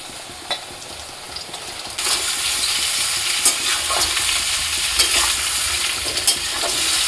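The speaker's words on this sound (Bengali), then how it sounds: "এবার একটুখানি পাগুলো দিয়ে নেড়ে নেবো।" Chicken legs stirred into onions frying in hot oil give a constant loud sizzle, with scraping spoon strokes at irregular moments over it and no voices.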